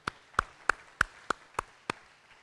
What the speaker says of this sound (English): Let's give a nice round of applause for Mr.